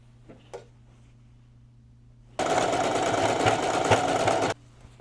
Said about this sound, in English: I'm just going to do like another sewing across underneath it